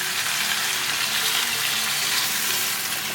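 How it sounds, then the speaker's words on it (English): A cup of water goes into a pan of sizzling chicken curry masala, giving a steady, bright, hissing sizzle with bubbling, close and even throughout, no talking. "Now I'm going to bring 1 cup water."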